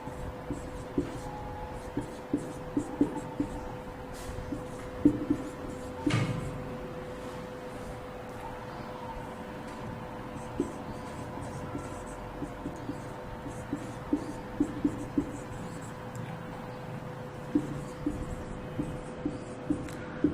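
A sentence is written by hand during a lesson, the faint scratch of pen strokes coming in short, scattered bursts over a quiet room hum.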